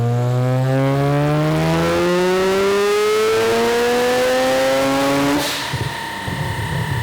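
A turbocharged two-rotor Mazda RX-7 engine making around 700 horsepower on a dyno pull, a loud rising rotary wail climbing steadily in pitch for about five seconds before cutting off into crackles and a lower idle.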